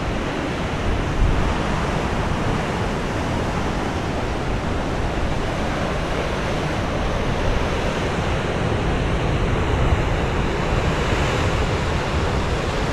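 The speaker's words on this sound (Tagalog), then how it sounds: "Lalaki ng alon, no?" Heavy surf roars continuously at Virac, Catanduanes, a broad rushing wash of big ocean waves with wind noise and no voices.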